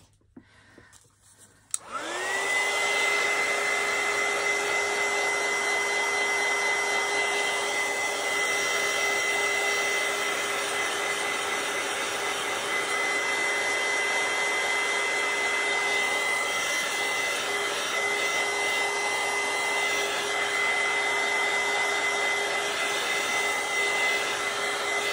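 A hair dryer clicks on and blows steadily to dry Mod Podge on a paper collage, a loud, constant whirring hum with a high whine that holds unchanged for a long stretch with no talk.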